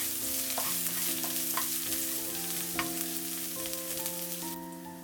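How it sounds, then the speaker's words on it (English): Chopped garlic and grated ginger fry in hot oil in a pan over high heat, giving a steady close sizzle broken by repeated stirring scrapes and clicks while tonal music plays underneath. "When the oil is hot, put the chopped garlic and the grated ginger."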